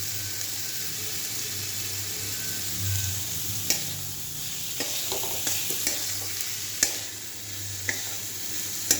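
Chopped onions fry for dal tadka with a soft, steady sizzle, punctuated by occasional clicks and scrapes of stirring in the pan.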